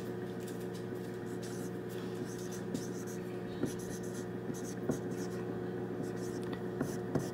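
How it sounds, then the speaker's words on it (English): Chisel-tip dry erase marker writing on a Dollar Tree whiteboard, faint close squeaks and soft strokes with occasional taps against the board over a low steady background hum. "I always write better with a chiseled tip for some reason."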